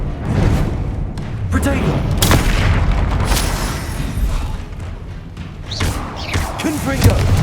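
Repeated booming spell blasts in Hogwarts Legacy, heavy thuds and bursts landing every second or so over a low rumbling game backdrop, with a voice speaking between impacts.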